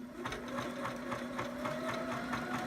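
Sewing machine with a regular transparent presser foot stitching a zigzag, a fast even rhythmic whir and ticking with steady stitch beats, moderately quiet and alone.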